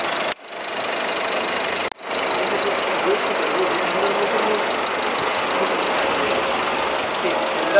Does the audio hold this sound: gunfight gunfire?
no